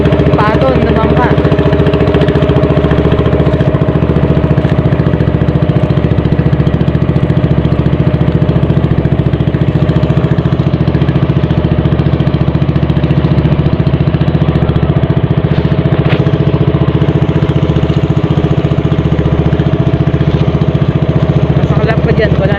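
A fishing boat's engine runs steadily at sea, a loud continuous droning chug that holds even throughout, with a voice talking over it now and then.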